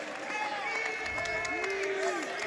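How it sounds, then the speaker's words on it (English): Crowd at a Dota 2 esports LAN semi-final between OG and Vici Gaming roars and cheers in a sustained, dense wash, with a caster's voice rising over the noise. "And the crowd goes wild for a techies at the bottom."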